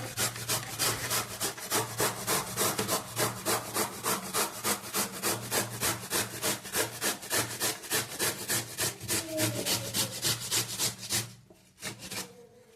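Bottle gourd is grated by hand in quick, even rasping strokes, about four per second and close by, until a brief pause near the end.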